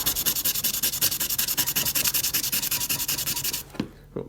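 Rhythmic back-and-forth sanding with 180 grit sandpaper, a raspy, fairly close scratch on each stroke, steady for a few seconds before stopping with a couple of faint rubs.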